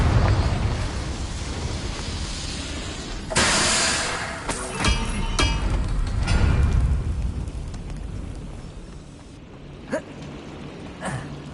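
A Confringo blasting spell goes off in Hogwarts Legacy, a loud burst followed by a long rumbling roar that fades out, with smaller pops and a short gasp-like sound later.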